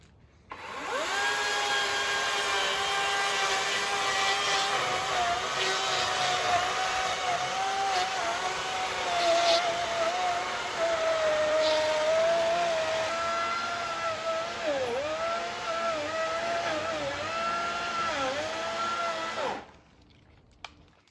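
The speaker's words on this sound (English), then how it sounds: "This is such a small, lightweight chainsaw that if I force it too hard, the chain bar starts to bend on me." A small, lightweight chainsaw cuts through a dead tree with a loud, close, high-pitched engine whine that holds steady for about twenty seconds, its pitch dipping several times as the bar bogs under load, then stopping abruptly. No one speaks.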